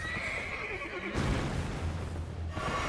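Horse in the game Elden Ring neighing loudly with a long whinny, followed by a thudding clatter of hooves and a second, shorter whinny near the end; no one speaks.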